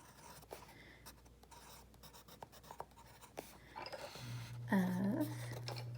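A pen or pencil scratches out a bar graph title by hand in short, faint strokes close by, then a low hum and a brief tonal sound rise near the end.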